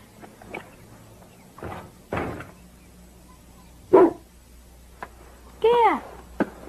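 A large dog gives a few scattered barks amid household knocks and door sounds, with a sharper yelp-like bark near the end, heard at moderate distance in a quiet room.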